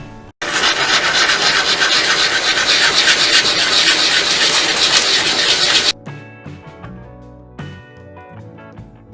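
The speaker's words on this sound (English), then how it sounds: "bake the goggles, and give them a nice ASMR sanding" Loud, continuous rasping of sandpaper rubbing baked clay goggles for several seconds, then it stops abruptly and softer tonal sounds follow.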